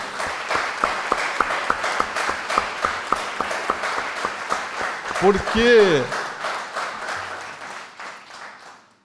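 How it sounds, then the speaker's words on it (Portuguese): Audience applause for teachers at an essay contest award ceremony, a steady patter of many hands with a voice speaking briefly over it midway before the clapping thins and fades. "que nós pudéssemos dar uma salva de palmas"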